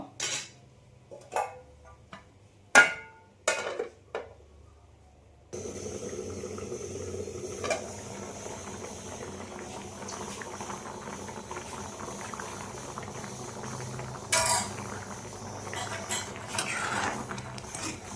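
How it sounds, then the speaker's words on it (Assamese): Fish simmers with potatoes and carrots in a pot, first a few sharp clinks of utensils against the pot, then a steady bubbling boil that continues with a brief clatter partway through. "মাছখিনি সিজিছে বাৰু। ইয়াতে গাজৰ আৰু আলুখিনি ভালদৰে সিজিলে খাই ভাল লাগিব।"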